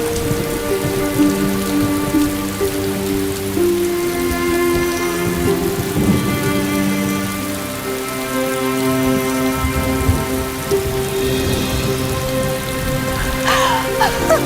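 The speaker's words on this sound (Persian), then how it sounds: "داره بارون میباره." Rain falls heavily and steadily throughout, with faint low rumbles that could be thunder, all beneath a continuous layer of tonal music.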